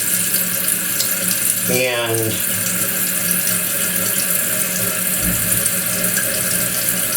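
A toilet tank refills with water through its fill valve, a steady rushing flow and hiss near the microphone that continues throughout. A brief gurgling sweep comes partway in, and a person speaks a single word.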